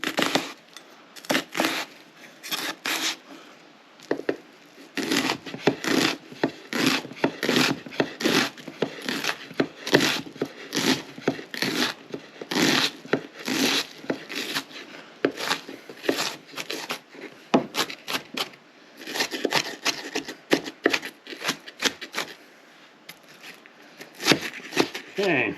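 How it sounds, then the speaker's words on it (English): A knife dices vegetables for fresh salsa in quick, close, rhythmic chopping strokes against a board, with a few short pauses along the way. "I like to dice it up pretty fine."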